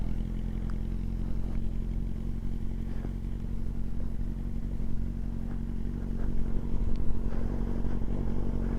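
Harley-style motorcycle engine idling and running steadily as a rider sits on it, a continuous low rumbling drone with faint clatter, close and without talk.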